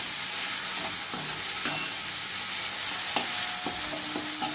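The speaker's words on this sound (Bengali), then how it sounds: "অনবরত কিন্তু নাড়তে হবে, টমেটো পেঁয়াজ যেন ভালো করে ভাজা হয়ে যায়।" Tomatoes and onions fry in a pan with a steady sizzle while a spoon stirs continuously, scraping and clacking against the pan at irregular moments, close and alone without any talk.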